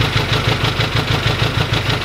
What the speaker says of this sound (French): la moto a bien démarré, je l'ai laissé bien tourner 1 heure